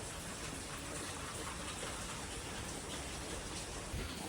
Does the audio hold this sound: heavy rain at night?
yes